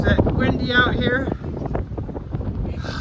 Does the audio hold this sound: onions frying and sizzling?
no